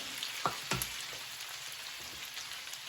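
Potatoes fry in a pan on an electric stove, giving a soft, steady sizzle with a few faint pops and crackles near the start and no voices.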